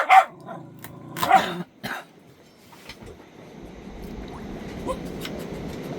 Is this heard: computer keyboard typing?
no